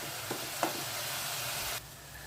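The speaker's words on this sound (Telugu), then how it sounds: "బాగా ఫ్రై అవనివ్వండి ఉల్లిపాయని బాగా వేగనిద్దాం" Onions fry in oil in a pan, a steady hiss of sizzling that runs evenly, with a couple of faint stirring knocks near the start, then drops to a quieter hiss at the end.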